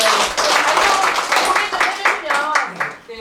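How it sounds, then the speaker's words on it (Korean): A village gathering in Yanggok 1-ri, Jeonui-myeon, Sejong, breaks into a round of clapping. Steady, dense applause comes from a nearby group, with voices talking over it. "박수 한번 쳐주세요."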